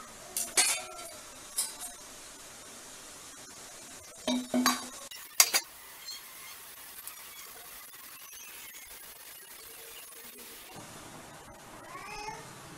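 Metal idli steamer plates clink and knock as freshly cooked idlis are tipped out, a few sharp bursts early on, then mostly quiet with a faint squeal near the end.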